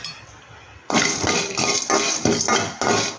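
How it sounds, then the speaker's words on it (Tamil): A hard lump of asafoetida being broken for idli podi, giving a run of sharp, loud cracking and clinking strikes at a steady pace, close by with no talk. "நெக்ஸ்ட்டு நம்ம கட்டி பெருங்காயம் எடுத்து வச்சுக்கிறோம் ஃப்ரெண்ட்ஸ். இது நல்லா உடச்சி விட்டு"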